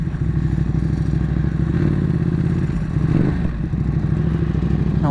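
Motorcycle engines idle and rumble at a bike night in Royal Oak, a steady throaty drone with pulsing low exhaust beats and a slight rise partway through, close and loud with no talk.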